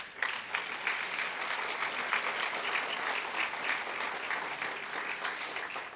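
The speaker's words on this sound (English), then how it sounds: "So please give yourselves a round of applause." A summit audience claps steadily for several seconds, a dense, even wash of applause with no voices over it.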